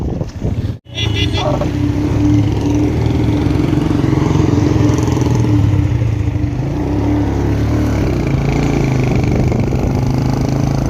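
A motorcycle engine idles and runs steadily nearby, a loud continuous rumble with a brief dropout near the start.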